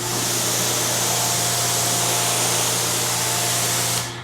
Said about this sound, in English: Dry it real quick and then use your prep spray.